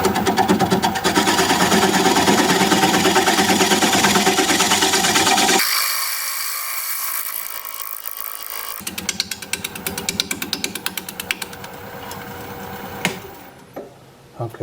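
A lathe spins a plum crotch wood blank while a gouge chatters against the uneven surface in a loud, rapid hammering rattle. The sound then cuts abruptly, followed by softer, intermittent scraping and knocking as the machine winds down.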